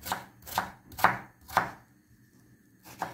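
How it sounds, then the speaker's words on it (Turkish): Knife chopping potatoes into small pieces on a cutting board, five crisp close-up chops in an uneven rhythm with a short pause before the last, no voices. "patateslerimizi şöyle küçük minik doğramaya çalışıyorum dostlar."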